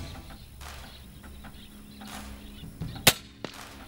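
A single sharp air rifle shot from an FX Impact fitted with a new barrel system, fired outdoors during pest-control hunting, cracks once near the end over quiet ambient background, followed by a fainter second report.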